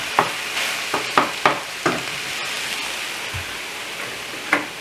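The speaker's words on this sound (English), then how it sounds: "That way it doesn't sizzle so loud when I'm trying to talk to you." An egg roll in a bowl mixture sizzles in a pan off the heat, with repeated sharp scrapes and stirs of a utensil over a soft frying hiss.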